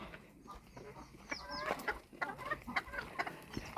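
Several chickens cluck in quick, irregular bursts nearby, the calls growing busier and louder partway through.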